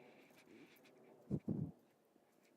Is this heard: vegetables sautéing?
no